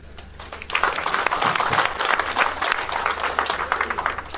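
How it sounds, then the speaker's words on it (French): An audience at a ceremony honouring a newly installed traditional neighbourhood chief applauds, with loud, dense clapping from many hands that builds quickly and holds steady without speech. "Merci d'applaudir une fois encore pour cette discipline."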